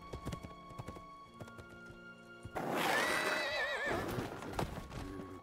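Horse neighing and clip-clopping hooves in the LEGO Lord of the Rings video game, a loud whinny rising over steady hoofbeats, with music in the background and no talking.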